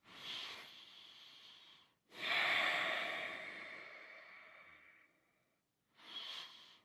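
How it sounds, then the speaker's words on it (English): Slow, even breathing in and out through the nose during a stillness moment in a knee-focused exercise session, with three long, close, airy breaths separated by brief pauses, the middle breath being the longest, and no talking. "let's just breathe in and out through your nose. Nice, even, slow breaths."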